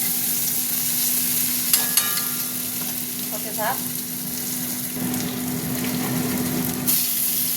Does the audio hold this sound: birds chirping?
no